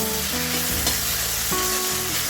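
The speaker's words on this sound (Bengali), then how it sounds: "তুলে নিয়ে আলুটাকে আরও ভালো করে লাল লাল করে ভেজে নেব" Potatoes frying in a pan, lifted from under the lid and browned further for a village-style vegetarian greens dish; a steady, bright sizzle runs throughout with stirring clatter and utensil knocks, close and alone.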